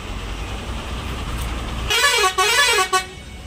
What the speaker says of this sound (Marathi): हा जो हॉर्न ऐकताय ना तुम्ही